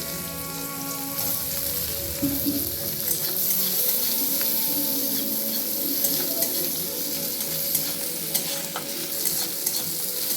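Garlic pieces and chopped onion frying in leftover oil from frying pointed gourd, a loud, dense crackling sizzle with continuous stirring, close and steady throughout.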